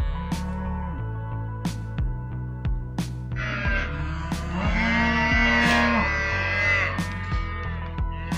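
Dairy cows separated from their calves before milking on a farm, lowing in long, loud, drawn-out moos, one after another, with other calls overlapping nearby.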